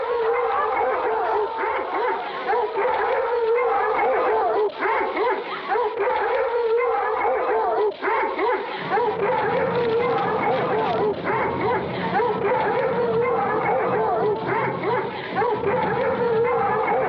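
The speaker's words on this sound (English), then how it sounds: "Set the hounds on her." A pack of hounds barking and howling in a suspense film, a dense loud chorus of yelps, bays and howls that grows heavier halfway through, with voices speaking over it.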